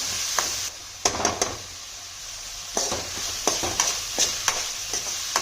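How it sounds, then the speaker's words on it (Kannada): Chopped onions and half a capsicum frying in a pan, with a continuous sizzle broken by repeated sharp scrapes and clanks of a spatula stirring, close and fairly loud. "ಇದಕ್ಕೆ 2 ಈರುಳ್ಳಿನ ಚಿಕ್ಕದಾಗಿ ಹೆಚ್ಚಿಕೊಂಡು ಹಾಕ್ಕೊಳ್ತಾ ಇದ್ದೀನಿ. ಹಾಗೆ ಅರ್ಧ ಕ್ಯಾಪ್ಸಿಕಮನ್ನು ಕಟ್ ಮಾಡ್ಕೊಂಡು ಹಾಕ್ಕೊಳ್ತಾ ಇದ್ದೀನಿ"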